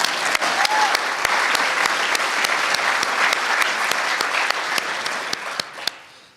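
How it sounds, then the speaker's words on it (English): An audience at a school breakfast event applauds, a loud, even roar of many hands with a few sharper claps standing out, fading away at the end. "How about a round of applause for Hasir?"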